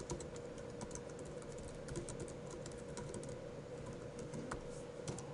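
Someone types on a computer keyboard in a rapid, continuous patter of light clicks over a steady background hum, with no talking.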